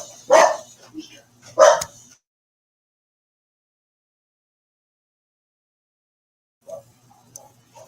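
Dogs bark at a car pulling into a driveway: two sharp, loud barks close together, then silence, followed by a few fainter yips.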